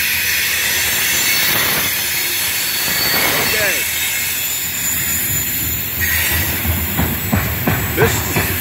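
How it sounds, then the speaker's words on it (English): A loaded Norfolk Southern coal drag rolls steadily past up close, its wheels squealing and the rails singing with high metallic tones over a continuous heavy rumble. "Oh yeah, listen to that rail singing."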